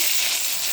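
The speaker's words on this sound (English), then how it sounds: "So next we're going to do is sear our beef." Loud, steady sizzle of lamb searing in a hot pot, a dense crackling hiss with no pauses.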